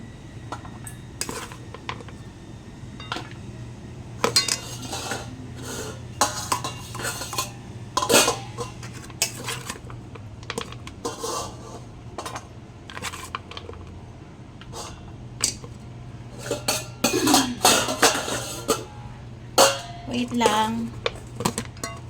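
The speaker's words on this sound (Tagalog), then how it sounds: "Ilalagay ko sa kainan nila." Dog food is scooped and scraped into the dogs' feeding bowl with a spoon, giving irregular clinks, taps and metallic clatters against a dish over a low steady hum, with quiet stretches between bursts.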